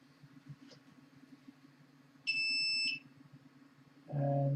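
A 3D printer gives a short electronic beep after unloading filament, followed by a second, lower beep a moment later, both clear against a quiet room hum.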